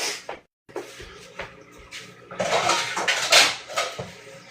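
A cooking pan is fetched for fajitas, with metallic clanks and clattering of pots, pans and cutlery, loud and close, in scattered bursts and busier toward the end.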